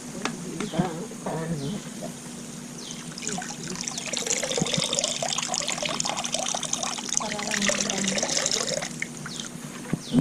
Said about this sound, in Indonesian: Lalu kita saring airnya ke ember pisang.